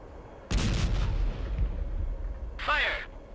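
A tank cannon fires a sabot round in the Arma Cold War Assault video game, a single loud boom that rolls off into a rumbling tail, followed by a short shouted voice.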